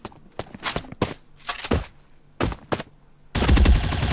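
Gunfire in the shooter game Bullet Angel from a free-to-obtain gun: sharp, close shots in short spaced bursts, then a dense rapid volley near the end, with no talking.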